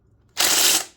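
A wrench or ratchet breaks loose a bolt during teardown of a 4L80E transmission: one close, loud, sustained grinding rasp of metal giving way, roughly half a second long, after a near-silent lead-in.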